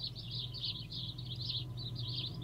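Quiet, continuous bird chirping from the video game WarZ in a rapid warbling pattern over a low background hum, fairly faint and steady.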